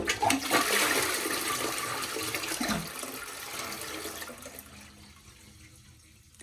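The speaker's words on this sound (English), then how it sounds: "okay, it's flushing fine." An old toilet in a 200-year-old Irish cottage with plumbing problems flushes with a loud, near rush of water that slowly tapers into a quieter refilling trickle, with no talking.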